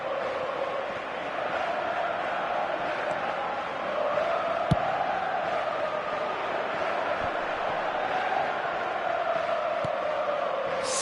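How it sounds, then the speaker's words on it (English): Football stadium crowd giving a steady, broad roar of cheering and applause that swells slightly midway, a dense wash of many voices with no single speaker standing out. "Crowd appreciates good football all round there."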